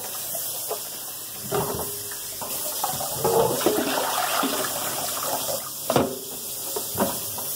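Sticky rice being washed in water, with steady sloshing and running water close by, punctuated by a few sharper knocks and splashes from the bowl.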